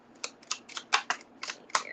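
Tarot cards are shuffled by hand, giving a quick series of about eight crisp, papery snaps and riffles close up in a quiet room.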